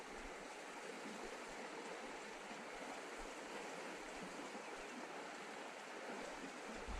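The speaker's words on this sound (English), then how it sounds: "And the river goes on now." A river flows past a campground in a constant, even rush of moving water, with no voices and no breaks.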